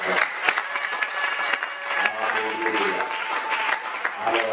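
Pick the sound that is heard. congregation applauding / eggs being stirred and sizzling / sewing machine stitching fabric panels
congregation applauding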